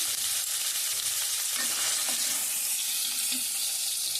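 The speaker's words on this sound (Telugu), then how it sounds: "మనకి ఇవి మంచిగా వేగునివి అంటే పాలు తీసేద్దాం" Eggplant and dried fish fry in a pan, giving a steady close sizzle with faint stirring scrapes throughout and no talk.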